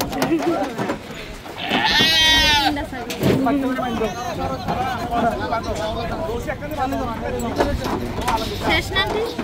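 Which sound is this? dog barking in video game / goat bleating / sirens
goat bleating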